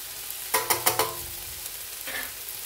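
A spoon clacks four times in quick succession against a pan of dry coriander frying, followed by a softer scrape. A faint sizzle runs underneath; close, with no talking.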